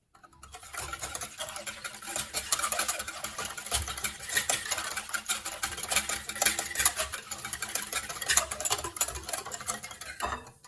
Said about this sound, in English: The next step is to add the milk and mix again.